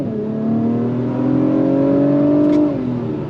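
A 2023 Acura TLX Type S sport sedan pulls away hard from a stop in first gear, its engine note rising steadily in pitch for nearly three seconds before easing off, close and loud with no talk.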